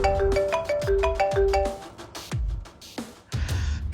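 A melodic phone ringtone plays a repeating bright chime pattern, loud and close, with no voices.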